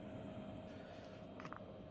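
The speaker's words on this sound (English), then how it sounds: "one thing that they have now is you can hear a helicopter in the background." A low, steady helicopter rotor drone hums in the background throughout the racing game Automobilista 2 at the Nürburgring, with a few faint higher clicks over the top.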